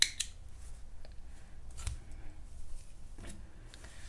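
Scissors snip crochet yarn in a few quick, quiet cuts at close range, with soft handling noises between them.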